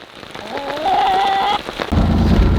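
Steady rain falls on a farm, a dense hiss that thickens toward the end, while a rooster crows partway through.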